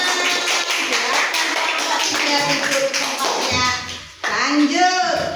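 Students in a classroom clap together in a burst of fairly close hand claps. Children's voices and chatter mix in over the clapping, and the sound briefly drops near the end before picking up again.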